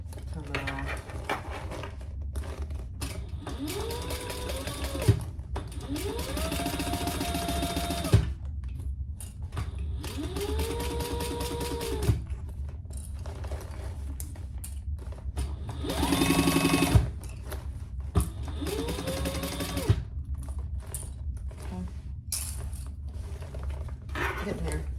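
A sewing machine back-stitches over the seams of a Fiona Foldover crossbody bag, its motor whirring in repeated runs of a few seconds separated by short pauses, close and steady, with a person talking quietly in the background.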